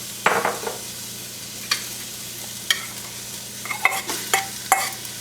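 Onions and beef fry in an oiled pan for a Moroccan dish, with low background sizzle broken by several sharp clattering stirs and scrapes at irregular intervals.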